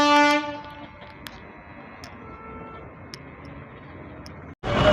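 A train runs past a closed railway gate on a rainy day in Kozhikode, its horn sounding briefly at the start before a steady rumble with faint clicks that ends abruptly.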